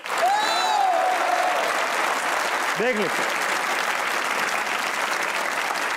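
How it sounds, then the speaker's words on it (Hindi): Studio audience applause on the Pakistani talk show Hasna Mana Hai, loud and sustained with dense clapping across the whole stretch, while a male host's voice cuts through over it and a brief vocal sweep rises partway through. "तालियां बजाइए।"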